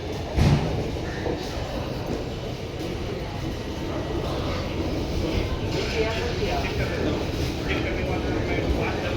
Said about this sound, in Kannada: ಟ್ರೈನು ಹೊರಡ್ತಾ ಇದೆ ಇವಾಗ